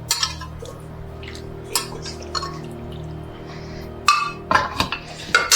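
Thick chicken and vegetable stew poured from a pot into a serving dish, with wet slops and drips, a few sharp clinks of utensil against metal and glass, loudest near the end.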